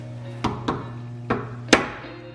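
Four sharp metallic taps from a hammer during fuel system work on a D17 engine, irregularly spaced, ringing briefly over a steady low hum, the last strike loudest.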